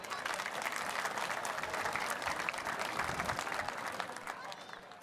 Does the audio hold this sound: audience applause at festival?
yes